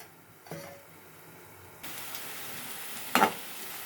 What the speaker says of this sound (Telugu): మూత పెట్టుకుంటే త్వరగా వేగుతాయి.